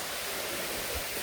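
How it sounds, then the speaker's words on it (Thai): A forest stream rushes over rocks near a camp in the woods, a steady close broadband wash of flowing water with no voices. "เป็นลำธารนะ"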